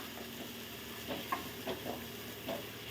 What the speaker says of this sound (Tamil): இதையும் நல்லா எண்ணெயிலேயே நம்ம வறுத்து எடுத்துக்கலாம்